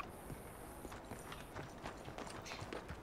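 Horse hooves clip-clop at a steady walking pace in a Gold Rush roleplay video game, quiet and even, with soft rhythmic hoof strikes and faint background ambience.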